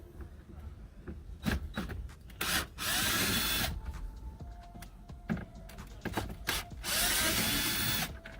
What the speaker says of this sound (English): A T20 will remove the 2 screws that's up here.